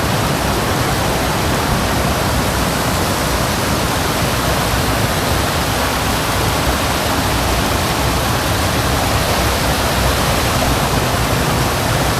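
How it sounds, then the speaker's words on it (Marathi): Loud, unbroken roar of a village waterfall in Rajapur, Konkan, dense rushing water filling the whole scene at a constant level. "पाणी भरलेलं आहे बघा पर्याय धबधबा झालाय"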